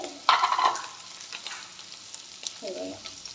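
Boiled potatoes with turmeric and salt get stirred in a pan: soft scraping and light sizzling at close range, loudest near the start, then quieter irregular stirs.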